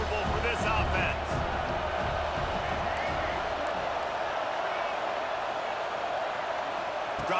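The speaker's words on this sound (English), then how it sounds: "This crowd trying to make life miserable for this offense" Stadium crowd noise from a College Football 26 game forms a steady, loud roar of many voices and cheering. It continues throughout, with commentary voices speaking over it.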